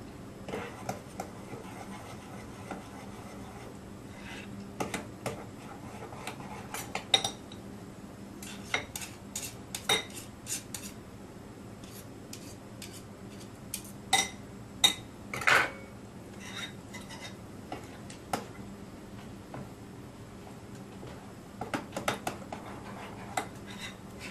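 A wild yeast starter being stirred and blended in a container, with scattered clinks and scrapes of a utensil against the vessel, irregular and close, over a faint steady background hum.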